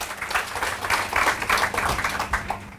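A training-session audience in Mumbai gives a round of applause, a burst of many hands clapping in quick uneven rhythm, moderately loud throughout.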